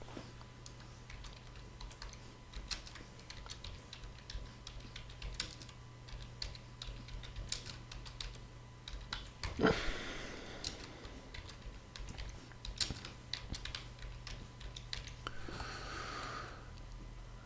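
Steady tapping on a computer keyboard while working on a GNU/Linux machine, light irregular clicks close up with a breath or sniff partway through and a faint hum beneath.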